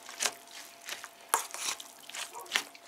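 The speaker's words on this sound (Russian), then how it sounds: "Сейчас я перемешаю и вернусь." A lenten cabbage salad is mixed by hand in a bowl, giving soft rhythmic squelching and rustling strokes, roughly five or six close, moderately loud pulses with brief pauses between them.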